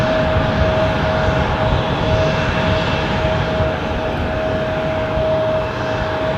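A Lufthansa jet airliner at Düsseldorf airport gives a loud, steady engine roar with a constant high whine running throughout, close by and alone without speech.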